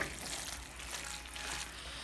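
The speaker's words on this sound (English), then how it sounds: "Now I'm gonna cook this until those shrimps are cooked through" Shrimp cook in a pan for seafood stuffed bell peppers, a soft steady sizzle, quiet and brief, with no voices.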